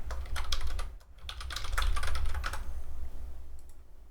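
Rapid typing on a computer keyboard, dense clicking bursts in two runs separated by a short pause, then a few scattered taps, close and clear with no voice.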